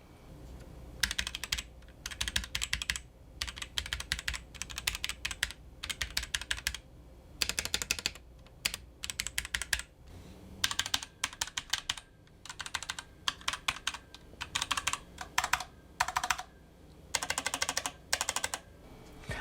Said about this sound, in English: the 1-2 Mini's keys feel more satisfying to press with less noise as